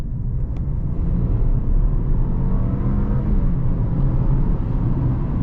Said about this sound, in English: We'll just kind of mash the throttle and see how it gets up to speed.